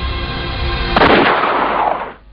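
A single loud pistol shot fired during a Soviet-era execution, a sharp crack over a low rumble, followed by a ringing decay that fades after about a second.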